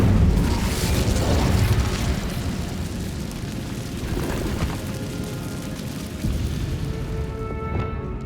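Fire spell cast in Hogwarts Legacy, a video game: a dense, roaring burst of flame and rumbling blasts that stays loud through the whole stretch, with crackling and booming layered over game ambience.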